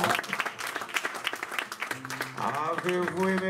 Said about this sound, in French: Donnons encore une acclamation au Seigneur.